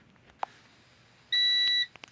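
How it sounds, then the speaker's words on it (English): A short click, then a steady high-pitched low-power warning beep from an off-grid solar inverter lasting about half a second, followed by a few faint chirps in a quiet room. "the inverter is beeping because it's getting low on power"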